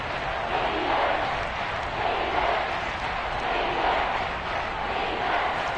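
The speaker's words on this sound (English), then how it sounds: "This red zone is where the Seahawk crowd really makes it tough for an offense to communicate" Loud Seahawks home stadium crowd noise from a football video game fills the stretch as a dense, sustained roar with rising swells of cheering, steady throughout and without distinct speech.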